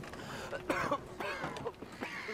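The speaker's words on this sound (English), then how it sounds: "Not a good cough, mate." A sickly character coughs and clears his throat in the video game Brothers: A Tale of Two Sons, with several rough, close bursts spread over a couple of seconds against steady game ambience.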